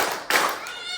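A congregation at an outdoor Pentecost church service claps together on cue in one brief, fairly faint burst of many hands, followed by quiet background hum.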